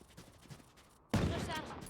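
Gunfire from the Sheriff and the Stinger in the video game Valorant: after a second of near quiet, a sudden loud burst of shots erupts and keeps going dense and rapid until the end.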